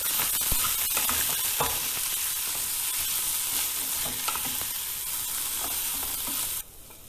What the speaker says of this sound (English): salt to taste, a tiny bit of haldi powder, half a teaspoon of red chili powder, and just mix it all up.